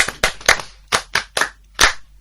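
A small language class applauds a student: a handful of sharp, separate claps close by in an irregular rhythm, with brief gaps of silence between them.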